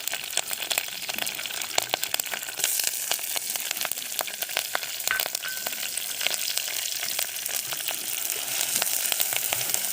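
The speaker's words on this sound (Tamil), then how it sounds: "வெங்காயம் நல்லா வதங்கட்டும்" Chopped onions sautéing with curry leaves in a pan for goat head gravy, a dense, even crackling sizzle held close and loud throughout, with faint stirring scrapes and no talking.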